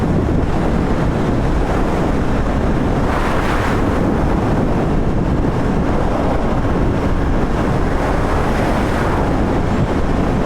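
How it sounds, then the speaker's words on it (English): A strong headwind hits a Royal Enfield Interceptor 650 rider on the road, a loud continuous roaring rumble of wind buffeting the microphone that never lets up and covers everything else. "The wind is really crazy. It sometimes feels like it'll blow you off the road."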